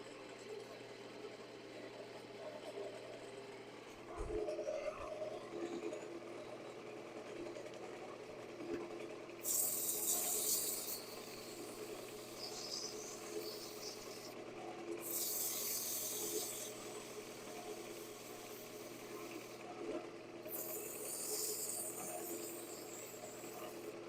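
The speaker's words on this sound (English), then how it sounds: "Again, just a really light hold with the sandpaper." Sandpaper held lightly against spinning turned wood on a lathe, a steady close rubbing hiss running throughout with bursts of brighter, harsher abrasion coming and going.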